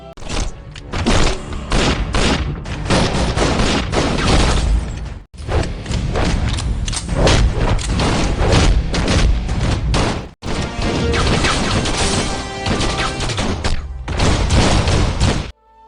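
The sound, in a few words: gunfire in a film shootout scene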